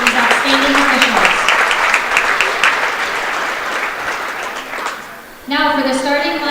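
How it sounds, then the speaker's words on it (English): A basketball gym crowd gives loud, sustained applause for the game officials, clapping filling the hall while a voice speaks over it before the clapping tapers off. "Show your appreciation by giving a big round of applause for these outstanding officials."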